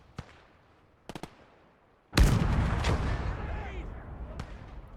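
Gunfire and artillery from the video game Gates of Hell: Ostfront, with a sharp shot, a quick cluster of reports, then a loud blast rolling into sustained battle noise and rumble.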